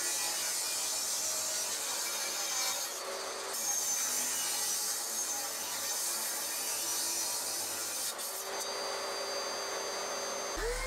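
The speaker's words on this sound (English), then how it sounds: "I trimmed the edges on the table saw." A table saw trims the edges of salvaged oak boards for an end-grain chopping board, giving a steady, loud, continuous whir of blade through wood with no talking.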